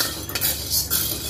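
Sago pearls are stirred and dry-roasted in a thick, heavy wok over low heat, giving a close, brisk scraping and rattling of a spoon against metal with faint grainy shuffling, no voices.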